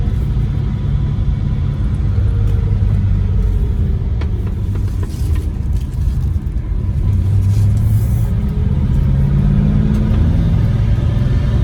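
A green 1969 Chrysler Esplanada drives along, its engine giving a steady low rumble under broad road and cabin noise that carries on without a break.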